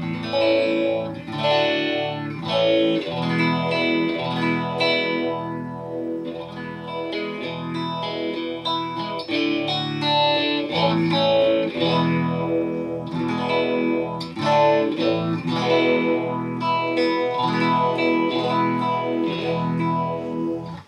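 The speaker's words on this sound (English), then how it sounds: "I've kind of got it set to sound like a Phase 90." Electric guitar played through a phaser pedal set like an MXR Phase 90, swirling chords and melodic lines sweeping continuously for the whole stretch, loud and up close with no talk.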